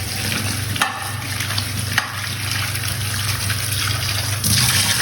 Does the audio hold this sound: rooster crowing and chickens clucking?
no